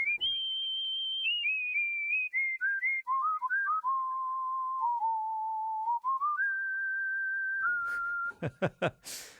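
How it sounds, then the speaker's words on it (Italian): A clear synthetic distant-whistle sound from a Korg DS-8 synthesizer glides down in stepped pitches, holding long tones, then a few sharp percussive bursts close it out. "vi lascerei con questo fischio"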